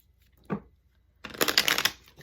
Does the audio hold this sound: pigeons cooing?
no